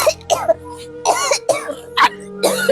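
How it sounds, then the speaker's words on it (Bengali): An elderly woman coughs and clears her throat again and again, close and loud, in harsh bursts about every half second with short pauses between them. "মাসি তো কাশি এসে গেল"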